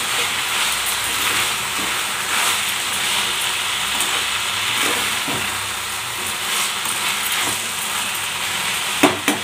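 A pea, potato, tomato and carrot curry stirred in a pan on full flame, with continuous sizzling hiss and faint scraping of the spoon, steady throughout and ending in a few sharp clinks.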